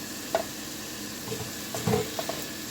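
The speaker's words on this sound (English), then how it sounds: "Keep stirring. It's like a stir fry." Tomato sauce being stirred into a cod stew in a hot sizzling pan, with soft scraping strokes and a few brief louder clinks over a steady low sizzle.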